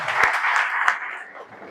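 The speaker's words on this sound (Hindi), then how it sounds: "ताली बजा के प्रभु को धन्यवाद" Congregation clapping in thanks to God at a Hindi-language church service, a dense wash of hand claps with a couple of sharper individual claps, steady and close, easing off slightly toward the end.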